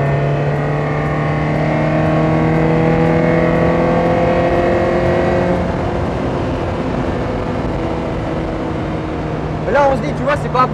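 A Lotus Elise S1 sports car engine hums in a steady drone with a gradual rise in pitch, heard from inside the car, with a voice speaking briefly near the end.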